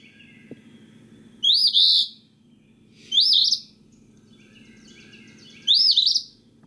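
Three clear, high, sweeping whistled bird calls ring out one at a time with pauses between them, each a short rising-and-falling phrase, over a low steady hum of background noise.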